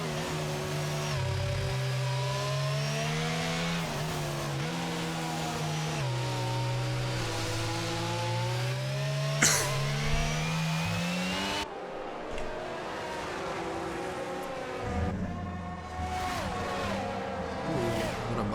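A Formula 1 race car engine in the F1 22 video game revs and sweeps through rising and falling pitches, loud and sustained, with a shift to a different engine tone partway through.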